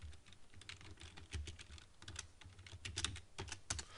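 Rapid typing on a computer keyboard while entering a chart axis label in Excel 2007, a dense run of close, crisp key clicks with no speech.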